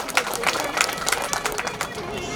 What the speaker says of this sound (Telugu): అందరూ గట్టిగా చప్పట్లు